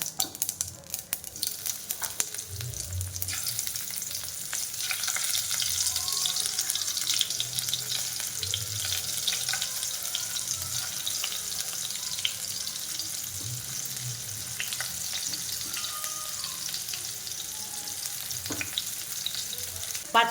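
Bitter gourds frying in spiced oil with mustard seeds and cumin, a continuous close sizzle with stirring and occasional scrapes, steady throughout.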